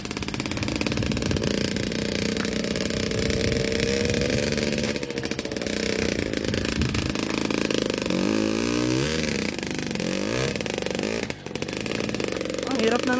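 A trail motorcycle's engine revs hard over rough ground, its loud buzzing note rising and dropping in repeated bursts, with a voice talking over it.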